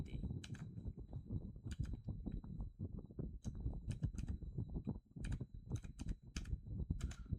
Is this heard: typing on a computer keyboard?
yes